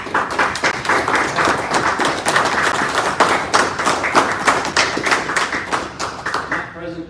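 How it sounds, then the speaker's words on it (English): Sustained applause from attendees at a city council meeting, a dense patter of claps filling the room for about seven seconds, with some voices mixed in beneath it before it begins to thin out at the end. "Round of applause for Sue."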